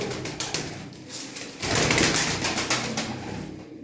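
Tumbler pigeons cooing in a loft, soft low throaty coos repeating amid faint rustling and wing movement, moderately close, with no talking.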